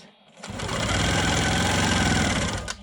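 A Quilt Maker Pro 20 machine stitching quilting lines on a quilt block runs for a couple of seconds as a steady, close mechanical whir with a clear start and stop.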